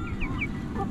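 Chickens on a farm in Changhua, Taiwan, give a few short, high clucks and squawks close by over a low murmur of background noise.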